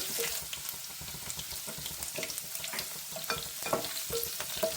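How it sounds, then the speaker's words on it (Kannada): Green chillies sizzle and crackle in hot oil in a pan with roasting chana and urad dal for peas upma, a steady close frying hiss with small pops and occasional stirring scrapes, no voices. "ಈಗ ಹಸಿರು ಮೆಣಸಿನಕಾಯಿನ ಹಾಕ್ತಾ ಇದ್ದೀನಿ"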